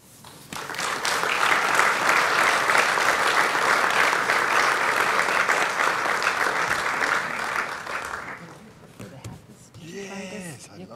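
An audience welcomes a priest speaker to a lecture on preaching with sustained applause. It swells quickly, holds steady for several seconds, then fades out, and a voice begins speaking as it ends.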